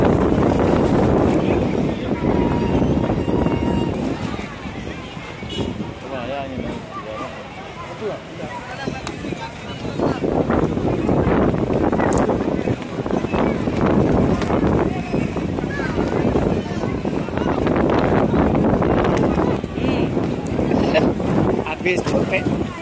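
Strong wind sweeps across an outdoor exhibition ground at the 2016 Abdya anniversary fair, roaring and buffeting the microphone in continuous surging gusts, with voices mixed into the noise.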